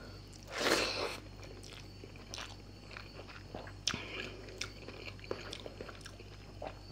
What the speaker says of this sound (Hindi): First bite.